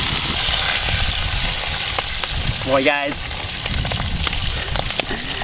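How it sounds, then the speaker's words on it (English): Bacon sizzling in a frying pan outdoors beside a lake on a fishing trip, a steady close crackle running throughout, with someone speaking briefly over it near the middle. "there are few things better than having sizzling bacon while you're out on a lake fishing like this"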